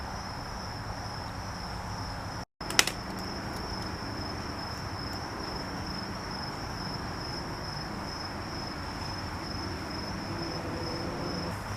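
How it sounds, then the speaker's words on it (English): Daytime crickets outdoors keep up a steady, unbroken high-pitched chirring for the whole stretch, moderately loud and close, with no voices over it. "There's a lot of crickets making noise during the day."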